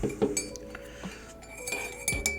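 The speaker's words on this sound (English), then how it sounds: "let me just very carefully stir the cream in" A spoon stirring cream into a cup of coffee, giving a few light, close metallic clinks against the cup spaced over a couple of seconds, with no talk.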